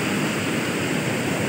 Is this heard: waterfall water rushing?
yes